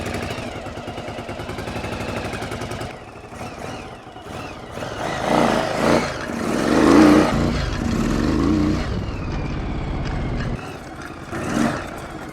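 A Yamaha Virago XV1100 motorcycle engine running and revving, swelling and falling in loudness over a steady rumble, close by and continuous.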